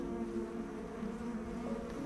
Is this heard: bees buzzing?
yes